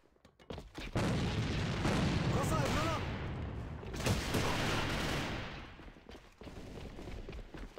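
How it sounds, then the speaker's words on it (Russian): A video game match has a thrown grenade and gunfire: a dense, loud burst of shots and booming blasts that swells, eases, then surges again over several seconds. "Бросаю гранату!"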